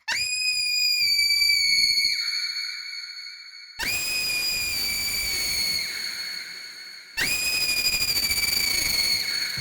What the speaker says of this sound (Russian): Крики можно чрезмерно искажать